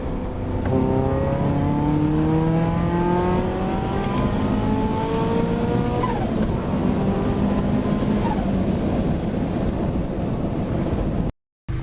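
Toyota GT86 fitted with a Greedy turbo kit accelerating hard, its loud engine note rising steadily through the gears with a clear shift midway, recorded close with wind buffeting and no talk.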